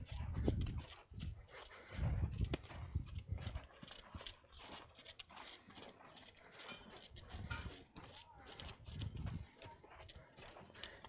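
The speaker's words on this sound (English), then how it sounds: "there's a lot of stuff going on with other horses going by that's distracting her" Horses walking past on a ranch, hooves clip-clopping in a steady, uneven rhythm at moderate distance, with low rumbling background noise throughout.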